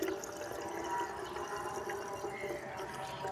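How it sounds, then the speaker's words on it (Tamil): Water poured into a two-liter can, a soft continuous pouring and trickling sound at low level with no pauses. "இந்த தண்ணியை ஊற்றுறோம் ஊற்றி ரெண்டு லிட்டர் கேனில் இதை ஊற்றுறோம்"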